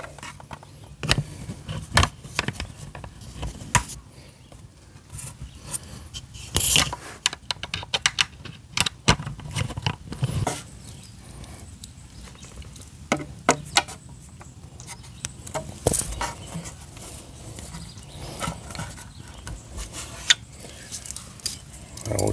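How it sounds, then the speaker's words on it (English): Four bolts are tightened on the upper mudguard of a Scrambler 400X motorcycle, heard as quiet, irregular sharp clicks and taps scattered throughout. "I will get all 4 of these bolts tightened up and we'll be done."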